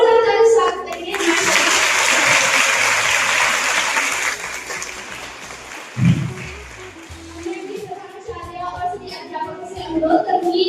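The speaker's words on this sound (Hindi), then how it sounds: "जोरदार ताली से स्वागत करिए।" Loud applause from students and staff welcoming teachers at a school science and math teaching-aid exhibition, a dense burst of clapping for several seconds that fades as children's voices and chatter take over.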